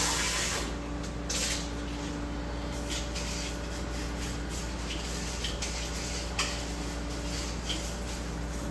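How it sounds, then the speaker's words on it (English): Steady water spray rinses a carbon filter by hand, a continuous close hiss that runs for the whole stretch under a faint hum, with a few small knocks. "Rinse it out again."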